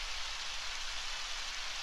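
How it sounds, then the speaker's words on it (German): Rain falling in Undertale, a soft, steady hiss of dense drizzle with no breaks, fairly quiet and unchanging over its short span. "Hier regnet es doch wieder."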